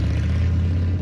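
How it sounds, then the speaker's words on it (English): A popular American motorcycle engine throbs with a steady, loud low rumble and a pulsing idle-to-rev character, close up and heard alone without voices. "This is the sound of a popular American motorcycle."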